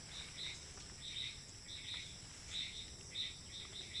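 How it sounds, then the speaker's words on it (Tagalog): Crickets chirp in short, repeated high-pitched trills over a low, steady background hum, fairly faint and continuous. "Maingay yung kuliglig."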